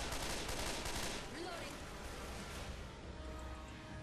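Rapid automatic gunfire crackles in Left 4 Dead 2, a dense, loud fusillade that is strongest at first and then thins to a lower rumbling battle bed.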